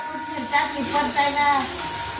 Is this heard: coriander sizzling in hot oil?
yes